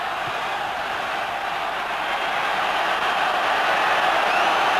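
A capacity crowd of 40,000 roars steadily through a tense finish of the 1989 Australia versus British Lions third rugby test, a dense, continuous wash of stadium cheering that swells slightly toward the end.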